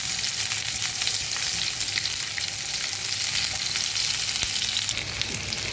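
Sliced onions frying in butter in a pan give a close, even sizzle with a steady bright crackle from start to finish and occasional faint stirring.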